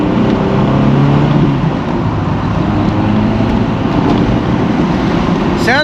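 A 1.8-litre four-cylinder MG F roadster with a standard exhaust rumbles steadily, a low, continuous engine drone heard close up with no talking over it.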